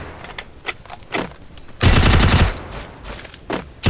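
Bursts of UMP submachine gun fire in the mobile shooter game Free Fire, a sharp sustained volley mid-clip among softer scattered in-game sounds, with no talk.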